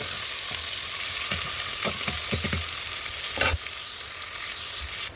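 Four large long-sliced onions fry in oil with bay leaves in a pressure cooker, a steady close sizzle with a few scraping stirs partway through.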